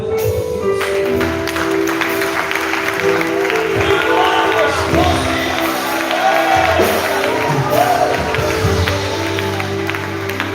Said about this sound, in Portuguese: A igreja pode aplaudir o Senhor